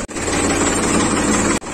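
John Deere tractor engine running as the tractor turns, a loud, close, steady drone with a brief dip near the start and another near the end.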